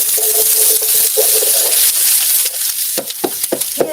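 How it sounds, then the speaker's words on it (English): Food fries in hot coconut oil with a bright, continuous sizzle, broken by sharp pops and crackles that grow more frequent toward the end, close and loud. "Hear the sizzle"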